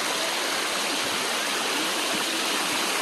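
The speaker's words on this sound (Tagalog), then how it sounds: "Bunsuran Falls, Antipolo." Bunsuran Falls in Antipolo roars as a steady, full rush of falling water, close and loud, with constant broadband noise and no voices.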